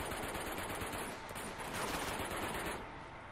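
Sustained automatic gunfire in Uncharted 2: Among Thieves, a dense, continuous rattle of shots for several seconds at steady loudness with no talking.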